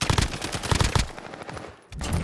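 Rapid automatic gunfire in Warzone, a dense, loud burst of rattling shots that briefly drops out, then resumes.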